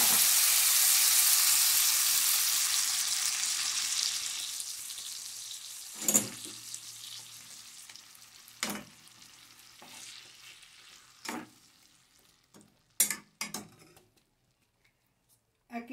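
Red chile sauce is strained into a hot pot of browned pork, setting off a loud sizzling hiss that fades over several seconds, followed by scattered clinks and scrapes of a strainer and spoon.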